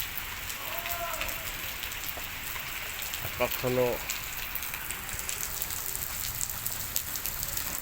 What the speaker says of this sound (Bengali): এখন হালকাভাবে বৃষ্টি হচ্ছে